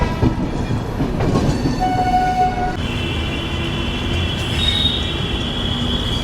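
Pawan Express train pulling into Varanasi Junction, with steady rumbling wheels, rail clatter and high metallic squeals rising and sustaining over the station's constant background noise.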